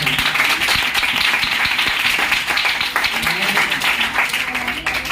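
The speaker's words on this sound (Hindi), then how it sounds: "जोर से ताली मार दो।" Church congregation at a Sunday healing-prayer sermon claps loudly, a dense roar of hands with some distinct sharp claps standing out, continuous and close throughout.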